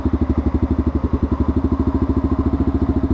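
A motorcycle engine idles close by with a steady, fast, even chugging pulse that repeats without a break, loud and alone with no talk over it.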